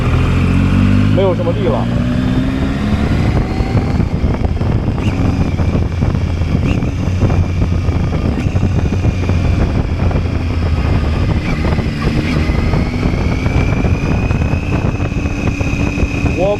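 A ZONTES 703F motorcycle accelerates in sixth gear with a steady, loud engine drone and rising tone, heard up close on board amid wind noise, with a rider talking over it.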